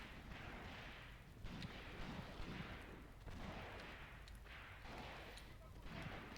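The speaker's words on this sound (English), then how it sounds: "Seems like the enemy gunners are shooting with their rifles" Enemy rifle fire in the Graviteam Tactics wargame, set in the Second Battle of Kharkov: distant, muffled bursts of shots roll out in irregular waves over a steady rumbling battlefield din.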